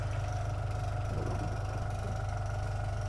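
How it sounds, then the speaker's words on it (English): An air compressor runs alone with a steady low mechanical hum and a fast, regular pulsing throb, constant in level with no voices over it. "for this moment we can switch the air compressor off again"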